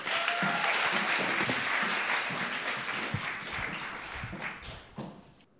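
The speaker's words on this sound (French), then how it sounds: "Merci de l'applaudir très fort." Applause from the audience at the Geneva eloquence contest, a dense wave of clapping that stays strong before gradually tapering off at the end.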